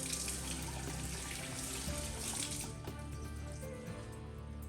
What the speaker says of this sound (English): We're gonna rinse that out with water.